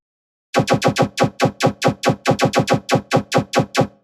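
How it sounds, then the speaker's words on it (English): A rapid run of about sixteen zappy, laser-like tearout synth gun hits in a steady pulsing rhythm, loud and close after a brief silence. "Getting that lasery sound."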